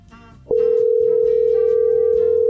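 A steady, single-pitched telephone tone starts abruptly and holds without a break for about two seconds, loud and close, over faint background music.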